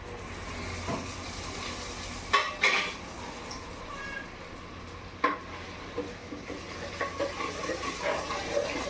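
Onions fry in a clay pot for a Rayalaseema-style fish curry, giving a soft sizzle under scattered clinks and scrapes of a utensil against the pot, busier toward the end.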